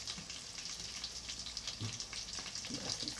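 Egg-dipped fried vegetables for karnıbahar crackle in hot oil, a quiet steady sizzle of small pops with a few light stirring knocks.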